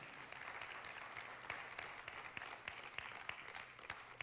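Applause from a church congregation during a Spanish-language sermon, a steady wash of many hands clapping at moderate distance with a few sharper claps standing out, continuous throughout.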